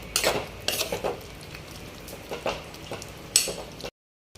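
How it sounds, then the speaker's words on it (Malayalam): A spoon scrapes and stirs potato and capsicum curry in a pan, with several clattering strokes against the metal and a light sizzle between them, close up and with no voices. "ഒന്നുകൂടി ഇളക്കാം."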